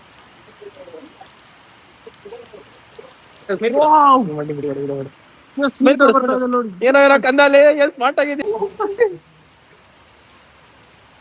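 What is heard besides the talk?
heavy rain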